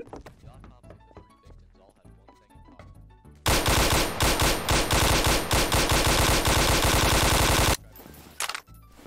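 Rapid automatic gunfire from a weapon in the video game Garry's Mod, a loud sustained burst of dense shots lasting several seconds, preceded and followed by quieter game sounds and a few isolated bangs.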